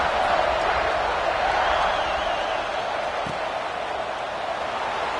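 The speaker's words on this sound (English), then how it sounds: "this crowd is buzzing after that last score" A football stadium crowd buzzes steadily after a score in an Ohio State versus Penn State game, a broad distant roar that holds at an even level.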